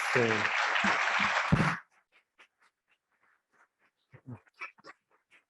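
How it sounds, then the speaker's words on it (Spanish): Short burst of audience applause at an academic year opening ceremony for doctoral programs, loud and dense for under two seconds, then cutting off abruptly, followed by scattered faint rustles and clicks. "Le damos un aplauso,"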